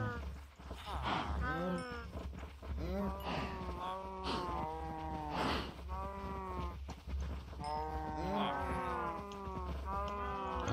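Cows mooing at a cow farm in the Minecraft video game: a string of repeated low moos, close and clear, overlapping one another across the stretch, with no talk over them.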